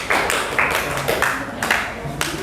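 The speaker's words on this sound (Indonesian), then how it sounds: "Tepuk tangan untuk kelas kita hari ini." Classroom students clap together in quick rhythmic bursts, several short sharp volleys spaced about half a second apart, with voices mixed in.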